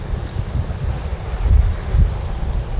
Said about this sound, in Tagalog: Laki ng alon mga master.